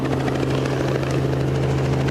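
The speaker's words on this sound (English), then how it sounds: "I'm going to wait a moment for this helicopter to at least get by." A helicopter passes at an air show, its loud, steady rotor chop and engine drone filling the whole stretch without talk.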